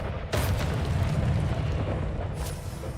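A Confringo fire spell explodes in Hogwarts Legacy, a deep rumbling blast with a sharp onset that rolls on steadily before a second brief burst near the end.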